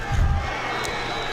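A football stadium crowd roars at a Providence vs Houston Academy game with the band playing, a dense wash of cheering and noise with a low thumping burst early on, continuous and fairly loud throughout.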